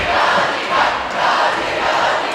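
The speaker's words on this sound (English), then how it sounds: "You hear the student section right below our camera doing a cheer" High school student section chanting a cheer together in a packed gym during a basketball game between Sioux Falls Jefferson and Sioux Falls O'Gorman, a loud, steady crowd roar with rhythmic swells across the whole clip.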